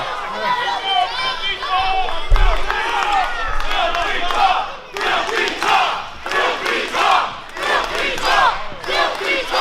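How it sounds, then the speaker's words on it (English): A wrestling crowd at an independent show roars and chants a wrestler's name in rhythmic, loud bursts of many voices, with the chant pulsing in repeated waves after a brief thud. "Crowd chanting "Filthy Tom""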